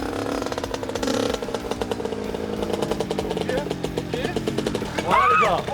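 A motocross motorcycle engine revs and clatters close by throughout, with rising and falling pitch as the rider accelerates, and a brief sharper rev burst near the end.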